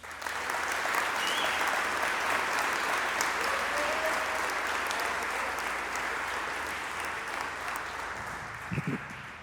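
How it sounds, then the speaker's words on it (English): An audience at a school sports awards ceremony applauds in a full, continuous burst of clapping that holds steady for several seconds before tapering slightly at the end. "Can we please give them a round of applause?"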